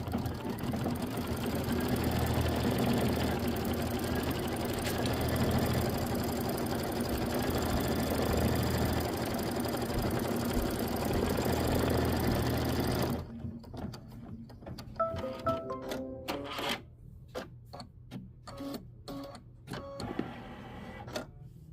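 A sewing machine runs steadily for about thirteen seconds while stitching a small butterfly quilting pattern in white thread on a Kimberbell mini quilt. Afterward it gives a series of short bursts and clicks, with no talking.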